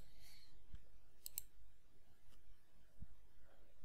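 Sparse, faint computer mouse clicks on a Windows 10 PC while changing network settings, a few isolated quiet clicks over low background hiss.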